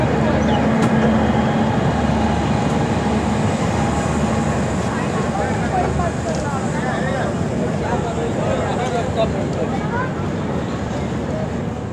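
A long-distance express train runs steadily after pulling out of Ayodhya Dham station, a constant rumbling roar of wheels and carriage with rattling mixed in, heard from inside throughout with some voices underneath.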